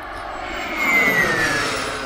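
A giant radio-controlled model jet roars past in flight, its loud turbine whine swelling and fading with a slight pitch sweep, steady and unbroken with no voices.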